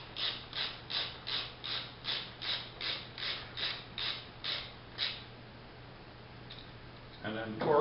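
Ratchet wrench tightening a suspension bolt after a bushing is slid in, about a dozen evenly spaced clicking strokes close up, then stopping, with a short bit of a voice at the end.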